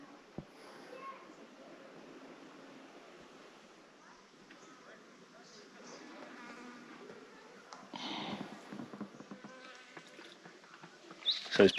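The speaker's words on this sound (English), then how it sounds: "So there's plenty of bees on this side as well." Bees buzz faintly around a gully with running water near caves in the Australian bush, a thin, steady drone under faint outdoor noise, growing busier with closer passes toward the end.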